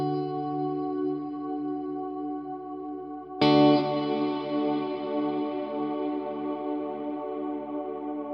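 Electric guitar through a GFI System Specular Tempus reverb pedal, a ringing chord joined midway by a bright new strum that blooms into a long, lush reverb wash and keeps sustaining.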